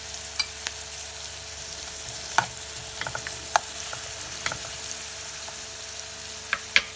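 Capsicum cooks with garlic paste in a pan, a constant soft sizzle under occasional spatula taps and scrapes against the metal, close and fairly quiet, no voices.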